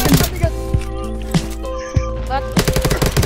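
Rapid bursts of automatic gunfire in the game Undawn, several short rattling volleys at the start and end with an excited voice shouting over the shots.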